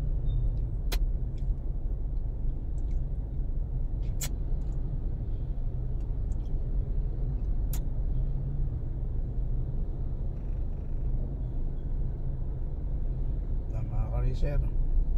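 Road traffic on C5 Road in Libis gives a steady low rumble of passing vehicles, with a few sharp clicks and a brief brake-like squeal near the end.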